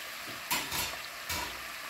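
Yam and plantain frying in oil in a pan while being stirred, a soft continuous sizzle broken by a few louder scraping stirs.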